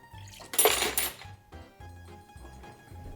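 An egg is cracked into a large metal shaker tin for an amaretto sour, giving a sharp tap on the rim followed by a brief clatter and light metallic rattles.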